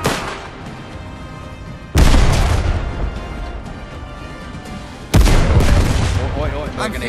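Heavy artillery booms twice, each blast sharp and loud, followed by a long rumbling roar that fills the space, in the video game Last Train Home.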